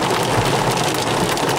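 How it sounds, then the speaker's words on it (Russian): Heavy rain and hail beat on a car roof in a continuous, even patter heard from inside, close and fairly loud with no talking. "Да не только дождь, а град"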